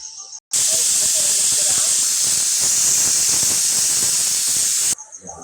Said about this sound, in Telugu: ఇప్పుడు అయితే టూ విజిల్స్ వచ్చేసిందండి